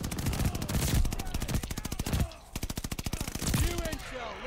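A dual-drum gun in Call of Duty: Vanguard fires in fast, evenly spaced automatic bursts, loud and close, with a short pause before a second long volley and a voice speaking briefly over it.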